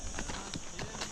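Horse hooves clip-clopping on a mountain trail ride in the Serra de Tramuntana, Mallorca, an irregular run of muffled steps under steady rustling and wind-like noise.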